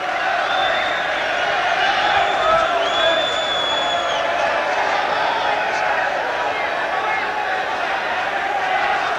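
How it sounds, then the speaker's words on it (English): A boxing crowd on its feet roars continuously through a bout between Francis Ampofo and Robbie Regan, a dense steady wash of cheering with occasional whistles and shouts standing out, loud and unbroken throughout. "The crowd on their feet."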